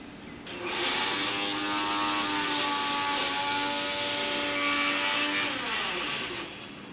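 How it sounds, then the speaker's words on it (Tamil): A mixer grinder grinding henna paste with lemon and water, its motor starting up into a steady, close, whining hum that holds for several seconds before spinning down. "இது மிக்சியில் அரைச்சிட்டு வந்துடலாம்."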